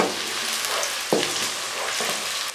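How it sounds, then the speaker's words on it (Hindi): Onions fry in a pan for Lahori chicken cholay, giving a dense, steady sizzle close by, with a brief scrape of stirring partway through. "हल्का ब्राउन होने तक हम इसमें प्याज को फ्राई करेंगे।"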